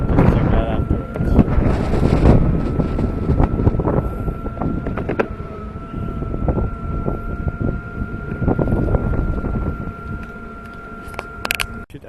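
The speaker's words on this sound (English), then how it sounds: "the wind's blowing pretty hard" Strong wind blowing hard outdoors against the microphone during a ride on an Airwheel M3 electric skateboard, a steady loud roaring buffet with gusts throughout and a faint whine underneath.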